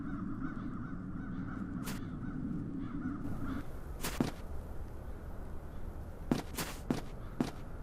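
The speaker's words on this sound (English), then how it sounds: "Those peculiar crows." Crows in the adventure video game The Dark Eye: Chains of Satinav give several harsh, scattered caws over a low ambient drone, fairly faint, some near and some farther off, in irregular bursts.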